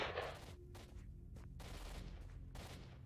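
Gunfire from soldiers in S.T.A.L.K.E.R.: Shadow of Chernobyl, faint distant bursts of rapid shots in several short volleys over a low background rumble.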